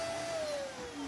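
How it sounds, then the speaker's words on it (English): A vacuum cleaner runs in a brief steady drone with a high whine that slowly dips in pitch. "might not like the sound of the vacuum cleaner?"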